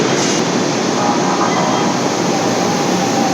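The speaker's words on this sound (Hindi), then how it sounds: "यहाँ पर इसको बोलते हैं लाइट रेल ट्रांजिट, LRT।" Manila Light Rail Transit (LRT) train in the city, heard as a steady, loud broadband rumble and rush of a car in motion with faint high whine, continuous throughout with no talk.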